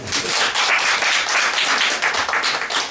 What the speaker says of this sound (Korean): 많은 박수와 격려를 부탁드리겠습니다